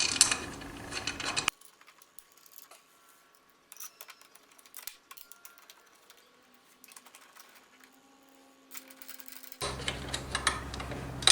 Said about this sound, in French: Une fois que les 3 vis sont en place, vous pouvez les serrer.